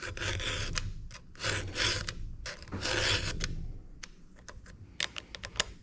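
A round file scrapes across chainsaw chain teeth held in a roller file guide, giving close, loud rasping strokes in a steady back-and-forth rhythm, followed by lighter scratchy ticks.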